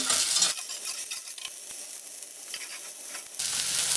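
Shallot sweating in a pan for a bordelaise sauce gives a steady, close sizzle and frying crackle, louder at the start and end with a softer stretch between, and no voices.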